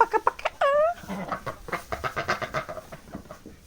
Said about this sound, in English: Then we got our rooster right there.